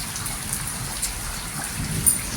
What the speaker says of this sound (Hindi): आई होप कि बारिश रुक जाए